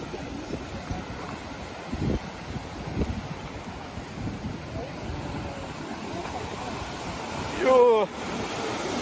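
Fast whitewater rushing through the Čunovo artificial kayak course, a loud broadband roar with wind buffeting the microphone and people's voices faintly mixed in.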